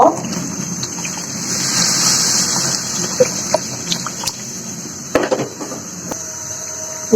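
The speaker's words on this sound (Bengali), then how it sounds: "এখানে গরম পানি দিব।" Hot water poured into spiced lentils in a cooking pot for a fish-head curry, a rushing gush over the first few seconds followed by quieter sloshing, clattering knocks and faint background kitchen noise.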